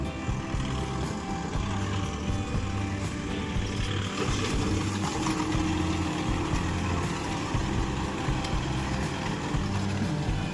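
A 4x4 tractor engine in a maize field runs at a steady, low idle, a continuous mechanical hum with no breaks.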